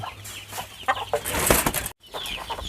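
Chickens on a farm cluck and squawk loudly and close by in a rapid, overlapping series of calls, with one brief gap of near silence before the clucking resumes.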